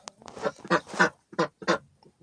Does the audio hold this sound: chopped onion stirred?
no